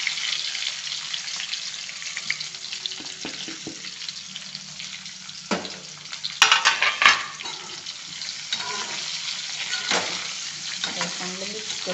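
Stuffed okra (bharleli bhendi) stirred in hot oil in a pan, a soft sizzle broken by repeated scraping and clattering of the spoon against the pan, several louder knocks midway, no speech.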